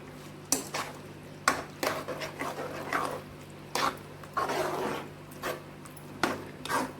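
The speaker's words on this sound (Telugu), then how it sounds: "ఇప్పుడు తురుము పట్టుకున్న పనీర్ని దీంట్లో యాడ్ చేసేసేయండి. యాడ్ చేసి ఒకసారి మిక్స్ చేసుకోండి." Grated paneer being stirred into a pan, with intermittent scraping and clinking of a utensil against the pan in short irregular bursts, close and moderately loud, with no talking.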